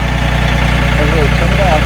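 A ranch tractor's engine idles close by in a loud, steady low rumble, with a voice speaking briefly over it.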